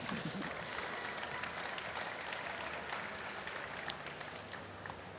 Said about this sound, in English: give the loudest cheer, round of applause for Jacob Bell and Ted